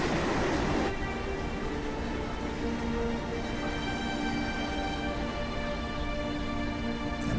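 A train rolls along rails in Final Fantasy 7, a continuous loud rumbling roar with a steady droning hum throughout and no speech.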